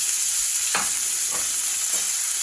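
Garlic, thyme and butter sizzling in a hot steak pan make a steady bright hiss, broken by three soft clinks or stirring knocks spaced evenly apart.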